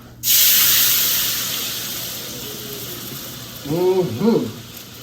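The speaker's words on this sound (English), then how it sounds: "we're gonna put all of our wet ingredients in the pan like this" Wet ingredients hit melted butter in a hot pan and burst into a loud, sustained sizzling hiss that slowly fades, close by, with a person briefly talking near the end.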